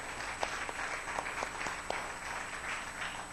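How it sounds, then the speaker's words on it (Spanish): A church congregation claps for the Lord, quiet and somewhat distant, with a few sharper individual claps popping out of a soft, steady patter. "Dale un aplauso al Señor."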